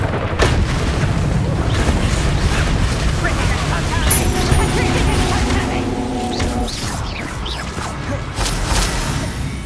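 Bombarda explosion spell in Hogwarts Legacy, heavy booming blasts repeating amid dense game combat noise and a voice calling spells.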